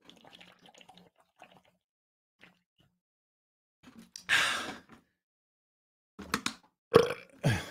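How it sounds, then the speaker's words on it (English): A weak, short burp from a person drinking lots of water, a brief breathy burst standing out after quiet stretches with faint rustles. "Weak burp."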